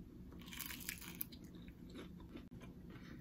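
Someone bites into crunchy homemade coconut shrimp dipped in sauce, giving soft, close, crisp crunches and chewing in a quiet room.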